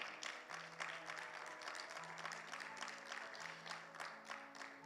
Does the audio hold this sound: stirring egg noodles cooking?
no